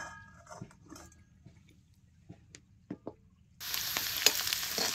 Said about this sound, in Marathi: आता हे सगळं एकत्र खालवर करून घ्यायचं.